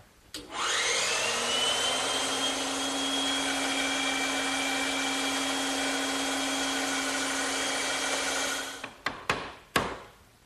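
A bandsaw runs steadily, cutting a wooden rail for a chest-on-chest, a loud sustained whine and rasp for about eight seconds, then the motor winds down followed by a few sharp knocks and clatters at the end.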